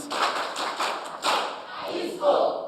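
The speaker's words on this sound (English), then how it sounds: "Please give her a round of applause" Audience at a school STEM promotion road show claps for the host head teacher, a mid-sized round of hand claps with uneven bursts, fairly close, with some room noise and a brief voice near the end.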